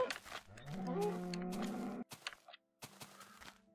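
A cow in the Minecraft video game lets out a long, loud moo, followed by a few short game sounds and a brief low grunt.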